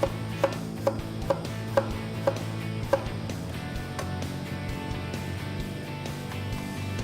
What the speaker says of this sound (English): We're just going to take some thin slices.